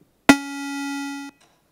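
Unfiltered square-wave synthesizer tone in the style of a Mario computer game: a single bright, buzzy, harmonically rich note held for about a second, loud and alone, cutting off abruptly.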